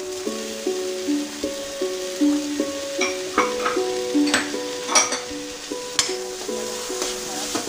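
Onion, capsicum and tomato sizzle in a pan as they are stirred, a steady frying hiss with soft scraping strokes, while a tonal melody plays throughout.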